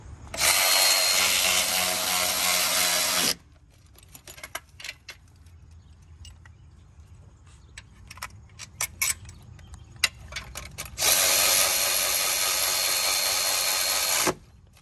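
A quarter-inch drive extended neck ratchet bolts an Audi 2.0T engine into place on a gravel driveway. Two long stretches of loud, steady ratcheting bracket a quieter middle filled with scattered clicks and knocks.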